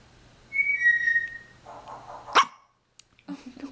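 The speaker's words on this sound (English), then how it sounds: "No, don't bark. Don't bark. Stay back." A pet dog near a baby in a home gives one sharp, close bark, preceded by a high thin whistling tone and a low murmur, with faint scattered sounds after.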